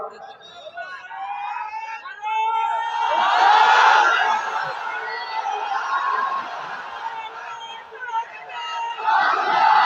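A large crowd of young men at an outdoor religious gathering shouts the takbir in unison, a swelling roar of massed voices that rises, falls and surges again, loud and reverberant.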